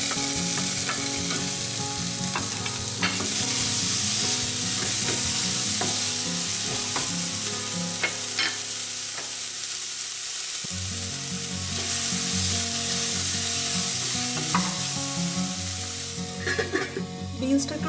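Green beans fry and sizzle in a pan with onion, a steady hiss broken by repeated stirring and scraping of a utensil, close and continuous for the whole stretch.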